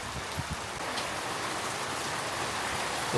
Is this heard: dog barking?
no